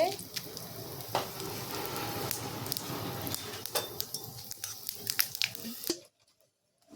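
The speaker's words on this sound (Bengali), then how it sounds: "ফোড়নে দিয়ে দিচ্ছি তেজপাতা জিরে" Bay leaves and cumin seeds frying in hot oil, a soft steady sizzle with scattered crackles and pops close by, stopping abruptly near the end.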